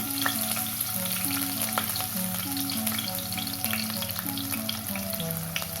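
Ginger garlic paste fries in a pan with fennel seeds for a vegetable salna. A constant sizzle with occasional stirring clicks plays alongside steady background music, and no one speaks.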